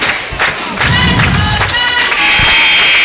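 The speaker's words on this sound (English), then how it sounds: "the crowd here are on their feet cheering for" A crowd on its feet cheers at a girls' high school basketball game between the White River Lady Tigers and Gregory Lady Gorillas, a loud sustained roar of voices with a shrill whistling edge filling the gym.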